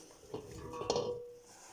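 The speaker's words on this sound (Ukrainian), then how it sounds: "Нарізану цибулю викладаю в каструлю." Sliced quarter-ring onion pieces dropped into a kitchen saucepan, giving a couple of soft clinks and a brighter metallic clatter near the middle, close and fairly quiet, with no talking.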